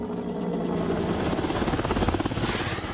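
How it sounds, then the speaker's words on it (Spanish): A US military helicopter's rotor thumps in a rapid, steady chop over a city, loud and close, with a roaring engine wash building toward the end. "Helicópteros estadounidenses sobrevolaron la ciudad atacando el complejo"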